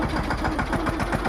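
A diesel tractor engine runs at a loud, close idle, thumping in a steady, even rhythm of low pulses.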